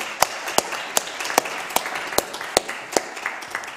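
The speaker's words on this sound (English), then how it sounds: "let me ask also for a round of applause to the panelists and moderator" A handful of people at a scientific conference clap for the panelists and moderator, sparse sharp claps in a roughly even rhythm, fairly close and moderate in level, with no speech over them.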